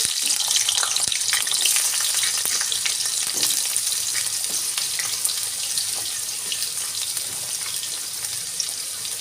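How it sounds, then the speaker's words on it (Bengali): Potatoes fry in oil with a continuous bright sizzle and scattered pops, steady and close, with occasional stirring clinks and no talking. "এবার ওই তেলে আলুটা ভেজে নেবো"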